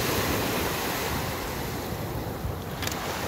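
Lake Michigan waves washing onto a rocky shore, a steady broadband rush of surf mixed with wind buffeting the microphone, continuous and fairly loud with no voices.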